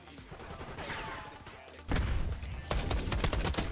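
Gunfire in a Call of Duty video game, with rapid bursts of shots that begin quietly, then turn loud and continuous in the second half.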